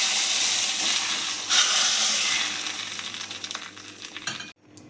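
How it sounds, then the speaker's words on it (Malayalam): Tempered mustard seeds poured into a pot of long bean and spinach curry hiss and sizzle steadily, fading off and ending abruptly, with no talking. "കടുക് താളിച്ചത് കറിയിലേക്ക് ചേർത്ത് കൊടുക്കാം"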